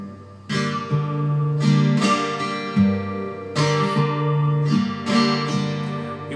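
An acoustic guitar strums the chords of a song in a repeating up, down and up stroke pattern, ringing chords struck at a steady rhythm, clear and close with no voice.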